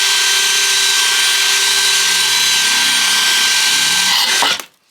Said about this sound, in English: and we drill away.